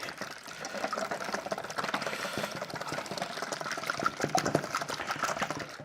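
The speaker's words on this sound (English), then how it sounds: "Give that a bit of a whisk up, break them up," Eggs whisked in a bowl give fast, continuous close clatter and light splashing at a moderate level.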